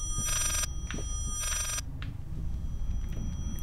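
An old-style telephone bell ringing in the horror game Layers of Fear, two loud electronic rings separated by a pause, over a low ambient drone with faint clicks.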